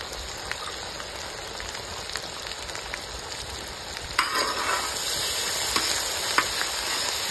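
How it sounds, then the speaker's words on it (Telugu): Ginger garlic paste fries on a tawa for a village-style mutton fry, a steady crackling sizzle that grows louder and busier midway, with occasional stirring clicks and no speech. "అల్లం వెల్లుల్లి పేస్ట్ వేగుతూ ఉంటుంది"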